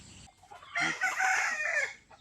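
A single village-breed rooster crows loudly and nearby, one long drawn-out call rising and trailing off, with little else around it.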